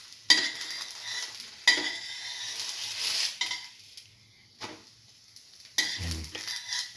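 French toast spiced with cinnamon and chili sizzles in a frying pan, with a few sharp utensil clatters and stirring scrapes as the bread is turned, the frying hiss steady and close.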